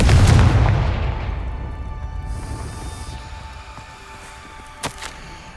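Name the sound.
Confringo blasting spell explosions from video game Hogwarts Legacy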